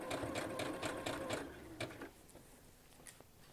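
A sewing machine stitches a quilted notebook cover in quick repeated bursts for about two seconds, then slows to a few faint, scattered clicks.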